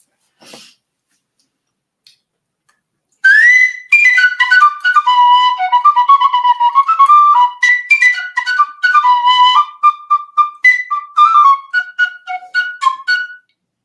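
A penny whistle plays a lively, bright melody of quick notes, loud and close, following a brief sneeze-like noise and silence.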